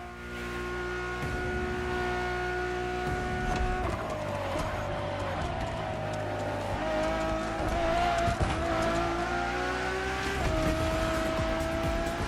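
Ferrari Enzo supercar engine droning steadily in the racing game The Crew Motorfest, a loud sustained tone with shifting pitch and brief tire squeal, no talking.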